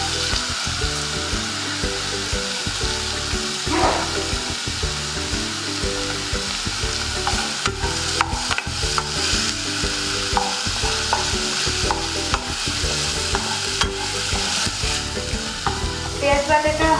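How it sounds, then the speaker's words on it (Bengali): Onion paste frying in a pan for a malai paneer dish, a continuous close sizzle with repeated scraping and clinking of a spoon stirring it throughout. "পেঁয়াজ বাটাটা হালকা ভাজা হয়ে গেছে"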